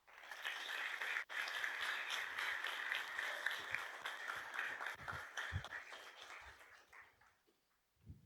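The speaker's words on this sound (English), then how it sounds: "Please give a warm round of applause to our first speaker, Tom Hurd." A conference audience at a WordPress talk claps in a full round of applause, steady and fairly distant, then thins out to a few scattered claps and fades to quiet by the end.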